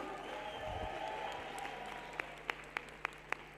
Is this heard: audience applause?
yes